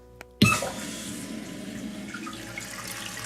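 Water gushing into a newly installed toilet once the supply valve is turned on: a sudden close burst that settles into a steady hiss of filling.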